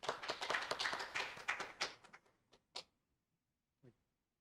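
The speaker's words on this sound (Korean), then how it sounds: "박수로 청해 듣겠습니다." Conference audience applause, a short burst of claps that fades out within about two seconds, followed by a few isolated claps in a quiet hall.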